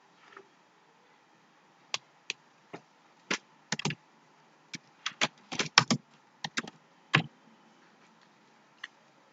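Keystrokes on a computer keyboard while entering a page title, a sparse run of sharp separate clicks that bunch into short bursts and then a lone late tap, close and fairly quiet with no talking.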